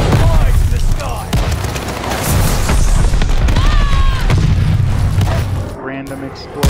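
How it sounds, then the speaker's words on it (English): A loud explosion booms in the war video game Vanguard amid a dense battlefield din of rumbling blasts and gunfire, with some tonal whistling sounds layered on top. "Random explosion."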